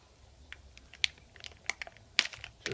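Plastic cheese packaging is cut with a series of small, sharp crinkling snips and crackles, quiet and close, irregular in rhythm, with no talking.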